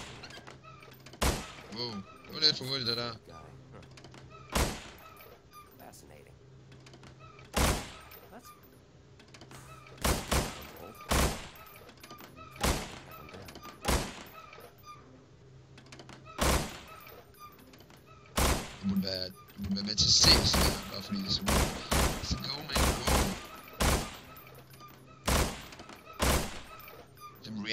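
Scattered single gunshots from weapons in the Half-Life 2 mod Estranged, sharp cracks repeating at irregular intervals, sometimes in quick pairs, with someone talking quietly between them.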